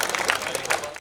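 An audience claps and applauds at a Hindi poetry recital, a dense burst of hand claps that cuts off abruptly at the end.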